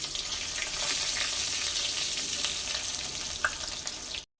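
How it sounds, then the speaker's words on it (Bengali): Eggplant pieces fry in hot oil with a dense, continuous close sizzle and occasional light clinks, running unbroken until an abrupt stop; no talking. "এবার আমি ওই তেলের মধ্যেই বেগুনগুলোকে দিয়ে দিচ্ছি"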